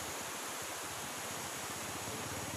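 River water rushes at falls in Pangasinan, a steady, broad, close hiss of flowing water with no voices over it.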